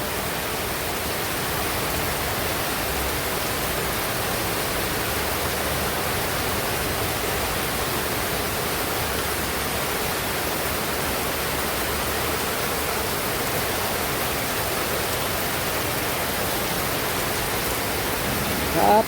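Heavy rain pours on a Loy Krathong day in Chonburi, Thailand, near a house with a small pond that catches runoff. It makes a dense, steady hiss that holds at an even loudness from start to finish.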